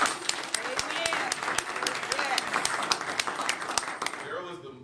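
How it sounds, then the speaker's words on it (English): An audience breaks into applause, a dense clatter of many hands with crisp individual claps, while people talk and cheer underneath before it fades out. "Let's give Daryl a round of applause."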